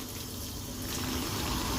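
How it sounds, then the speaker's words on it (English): Water from a hose pours into a bucket on a sailboat, a steady rushing splash that grows slightly fuller and louder as it goes, with no voices. "we're filling up the bucket with water"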